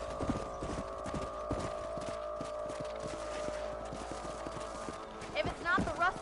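Horse hooves clopping in a steady rhythm as a rider travels on horseback in the video game Red Dead Redemption, close and continuous, with a brief whinny or voice toward the end.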